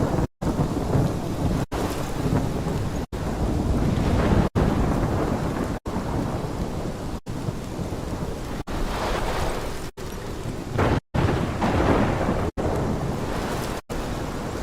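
Heavy thunderstorm in the video game Life is Strange: steady loud rain with rolling thunder rumbling throughout, broken by several brief sharp gaps of silence, no voices.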